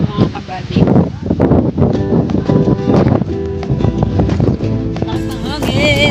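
Strong seaside wind roars and buffets the microphone throughout, loud and constant, with voices mixed in underneath.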